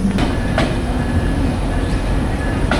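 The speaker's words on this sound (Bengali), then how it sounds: "এইদিকে 7:30 বাজতে বাজতে চলে আসলো চিলাহাটি এক্সপ্রেস।" The Chilahati Express pulling into a Bangladesh railway station on a winter morning, a loud rolling rumble of wheels with rhythmic clacks, close by and without talk.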